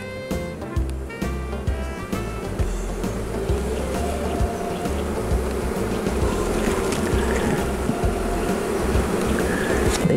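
Honey bees buzz continuously around an open hive during an inspection, a moderate, steady drone of many wings close by, with occasional handling clicks and no speech.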